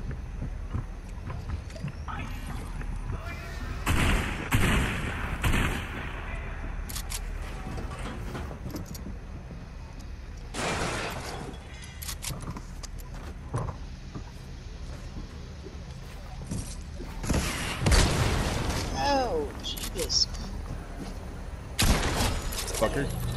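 Rockets fire in a first-person shooter game, with sharp blasts and bursts scattered irregularly over a busy, noisy background and several loud impacts near the end, with a player talking at times.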